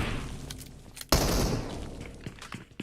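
In a PUBG Mobile esports qualifier match, a few scattered gunshots are followed by one heavy, booming shot that rings out and slowly fades, with faint further pops afterwards and no voices.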